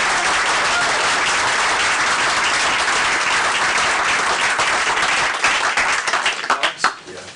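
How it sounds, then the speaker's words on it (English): Sustained audience applause at a school board meeting, honoring athletes from a 200-yard relay team, fills most of the clip, then breaks into scattered individual claps as it dies down near the end. "So like a round of applause for"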